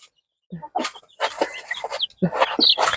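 Brahma chicks in a backyard coop, handled for a Lasota vaccine, cluck and peep close by in short, repeated bursts after a brief quiet start.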